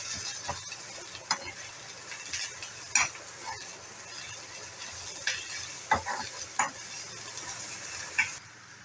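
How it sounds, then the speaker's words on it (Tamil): Potato bonda filling sautéing in a pan, a soft steady sizzle broken by intermittent scraping and clinking strokes of a spoon stirring against the metal, close and fairly quiet with no talking. "உப்பு போட்டு வதக்கியாச்சு."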